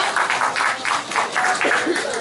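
Steady applause from a small crowd greeting a guest at a mayoral candidacy press conference in Gumi, rhythmic clapping that is fairly close and fills the whole moment, with brief talk near the end.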